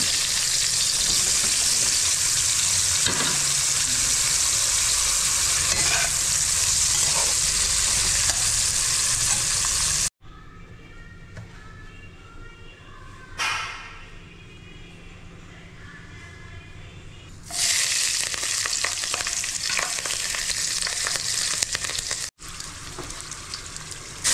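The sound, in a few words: potatoes frying in hot oil in a wok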